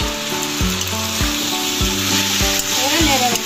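Pasta with sauce and corn cooking in a pan, a close, steady sizzle broken by a regular scraping stir roughly every half second, with a low rumbling thud at each stroke.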